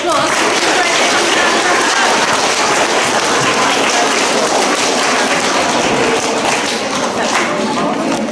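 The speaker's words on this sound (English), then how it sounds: "Let's give them a round of applause" Pupils and staff at a school assembly give a round of applause, a loud, dense and continuous patter of many hands clapping that holds steady throughout and eases slightly near the end.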